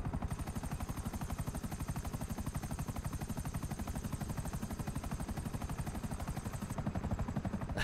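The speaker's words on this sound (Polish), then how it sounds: "skąd masz ten helikopter?" Helicopter flying in a video game, a close, steady rotor thump with rapid even pulses over a constant engine whine, heard alone and unbroken for the whole stretch.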